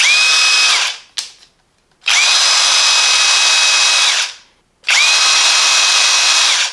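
A Parkside Performance 20V cordless drill driver whirs loudly at close range in three bursts, spinning up and winding down between short silences.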